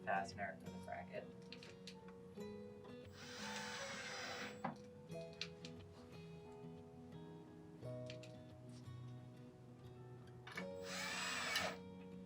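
A power drill drives a fastener into a bracket for an inside-mount cassette window shade, heard as two short, loud whirring bursts separated by quieter stretches with someone talking.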